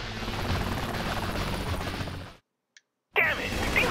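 A helicopter in the video game Saints Row 3 Remastered gives a loud, steady rotor and engine roar. It cuts out abruptly for under a second, then returns just as strong.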